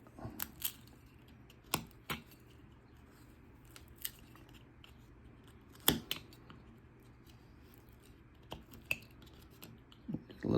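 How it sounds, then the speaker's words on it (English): A carving knife makes stop cuts in wood while carving a cowboy figure, giving faint, scattered sharp clicks and snicks spaced irregularly over a quiet background. "I'm going to do my stop cut, and then I'm going to do a stop cut on the side of the face."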